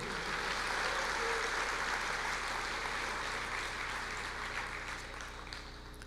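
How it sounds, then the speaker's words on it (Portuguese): Sustained applause from a church congregation during a Portuguese-language sermon, a dense wash of clapping held steady for about six seconds before easing slightly toward the end, with no talk over it. "Pode aplaudir o Senhor antes de ouvir, porque é bom."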